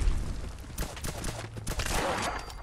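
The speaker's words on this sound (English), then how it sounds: "So that's the pistol." Pistol fire in Fallout 4 crackles through a busy game mix as a scatter of sharp reports over a couple of seconds, none standing out sharply from the clutter around it.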